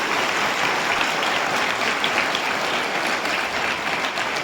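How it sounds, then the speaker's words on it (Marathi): An audience claps loudly and steadily for teachers at an education talk, a dense, sustained burst of applause from a large crowd with no voices over it. "जोरदार सॅल्यूट आणि टाळ्या त्यांच्यासाठी झाल्या पाहिजे"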